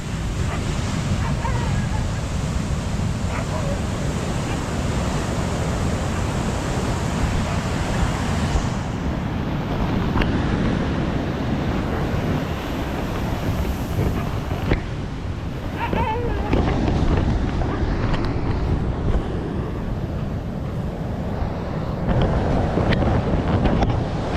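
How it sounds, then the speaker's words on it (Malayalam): Sea waves wash onto a shore under strong gusting wind, a loud continuous surf rush with heavy wind buffeting on the microphone and occasional faint voices. "കടൽ കയറി വരുന്നുണ്ടോ?"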